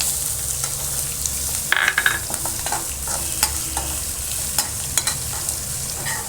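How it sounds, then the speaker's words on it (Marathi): Chopped onion sizzles in ghee with chilli for vegetable upma, a steady hiss of frying up close, broken by sharp clicks and scrapes of stirring. "आता आपण जो कांदा चिरून घेतलाय तो टाकणार आहोत"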